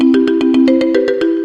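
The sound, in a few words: mobile phone ringtone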